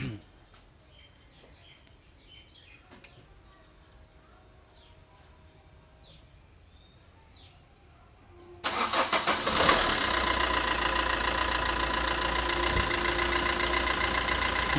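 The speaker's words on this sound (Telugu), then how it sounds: "ఓకే రైట్, ఇంజిన్ స్టార్ట్ చేయండి." A car engine cranks and catches after a quiet stretch with faint birdsong, then settles into a steady, fairly loud idle that runs to the end.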